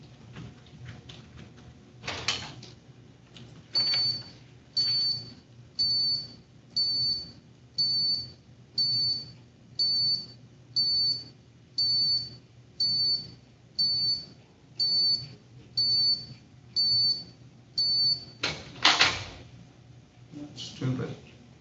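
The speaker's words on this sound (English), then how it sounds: "Stupid alarm." An alarm beeps repeatedly in a courtroom during a probation and bond violation hearing, about fifteen evenly spaced loud tones over a low murmur of room noise and voices, with louder clatter near the start and end.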